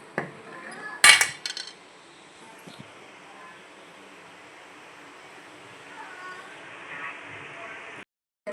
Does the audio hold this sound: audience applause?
no